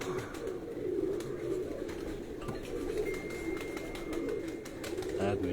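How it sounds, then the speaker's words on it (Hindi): Pigeons cooing in a bird-keeping gathering, soft repeated rolling coos in a steady rhythm, moderately close, with people chatting nearby. "कबूतर।"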